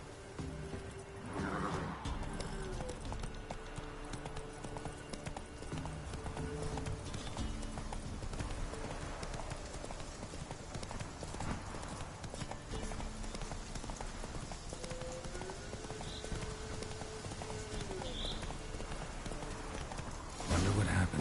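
A horse's hooves clip-clop at a steady walking pace in The Witcher 3, heard under background music and game ambience, fairly faint throughout.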